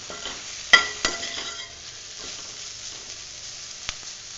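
Onion sautéing in oil for a dry aloo gobi masala, with a soft steady sizzle, a couple of sharp clinks from stirring near the start, and a lone tap near the end.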